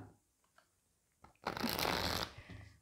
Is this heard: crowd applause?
no